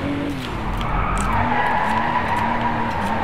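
Car drifting in the DRIVECLUB racing game, with a sustained squeal of skidding tires and a revving engine, loud and continuous throughout.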